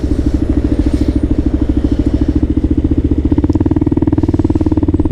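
A Kawasaki KLR 650 motorcycle engine runs at a steady idle, its loud, close single-cylinder thump pulsing in a rapid even rhythm with a slight rise partway through.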